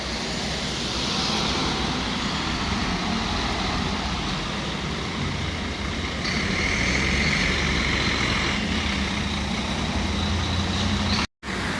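A double-decker bus on the C52 service from Cheltenham Racecourse Park and Ride pulls into a stop in Cirencester, its engine rumbling loud and steady throughout amid surrounding road noise.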